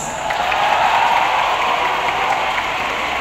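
Warm, sustained applause from a crowd at a senior high school graduation ceremony, a dense steady wash of many hands clapping that holds even and loud throughout, with no voices standing out.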